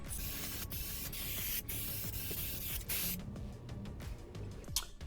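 A steady, close hiss of a spray paint can running for about three seconds while painting Mitsubishi Eclipse trim, followed by quieter clicks and short bursts.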